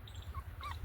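A puppy whimpers and yips in short, faint high-pitched bursts, close by, with low background rumble underneath and no talking.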